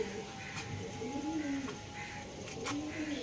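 Punjabi Malbari pigeons coo softly inside their box, with several rolling, throaty calls rising and falling over a quiet background and faint clicks.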